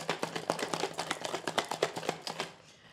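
A cocktail is shaken hard in a shaker, giving fast rhythmic rattling clacks close up. The shaking runs steadily for a few seconds, then stops and trails off into quiet.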